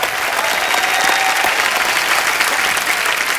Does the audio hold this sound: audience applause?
yes